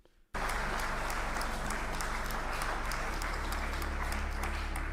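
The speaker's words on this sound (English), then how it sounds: "Why are you applauding that?" A large audience breaks into sudden, dense applause after a brief quiet moment, the clapping loud and sustained without pause, with no voices rising above it.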